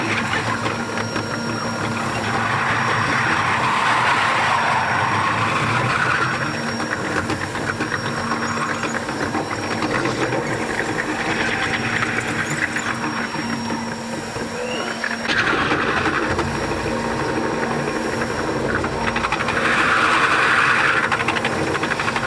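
A train ride heard from inside a carriage, with a continuous rumbling drone of wheels and engine that swells and fades in slow waves, and a faint steady whine over it.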